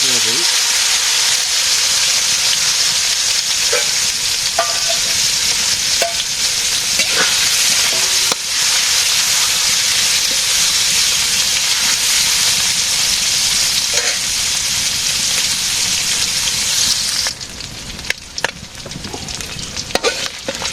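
Fish frying in a pan in a village kitchen, a steady loud sizzle and hiss running throughout with occasional stirring clinks, easing slightly near the end.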